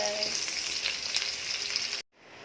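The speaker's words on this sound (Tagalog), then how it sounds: "Naigisa ko na yung bawang at sibuyas, tas yung karne." Garlic and onion sizzle steadily in a hot pan for menudo, a loud, dense frying hiss with a few stirring scrapes, cutting off abruptly near the end to a quieter hiss.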